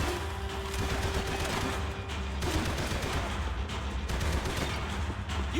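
Dense gunfire in the video game Max Payne 3, rapid overlapping shots and bursts filling the scene continuously at steady loudness, with no voices heard.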